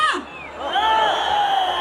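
A crowd at a performance in Mandya cheers and whoops, shrill voices rising over a steady crowd roar.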